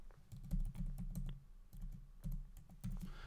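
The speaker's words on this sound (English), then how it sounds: "and type in my password" A password is typed on a computer keyboard, close and fairly quiet, in quick bursts of key clicks separated by short pauses.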